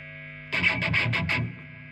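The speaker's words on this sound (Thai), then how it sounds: "เดี๋ยวมาฟังเสียงแตกกันนะ เปิดเกียร์ที่เที่ยงเหมือนเดิม" A burst of distorted electric guitar from a 1999 Fender SRV Stratocaster, a few gritty strummed chords ringing out for about a second before fading into a low hum.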